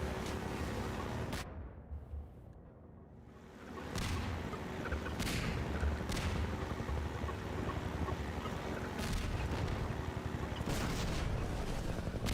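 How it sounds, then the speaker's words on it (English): Explosions from bombs in Half-Life 2 boom several times over a dense, rumbling game soundscape. They come as sharp bursts spread across the stretch, with a brief lull early on. "More bombs."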